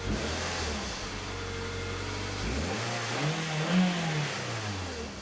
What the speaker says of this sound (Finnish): Kuuluu vaan moottorin ihana hurina.